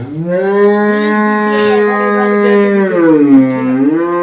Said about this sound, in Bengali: এটা বাছুর আচ্ছা বাছুরটা তো বড় হয়েছে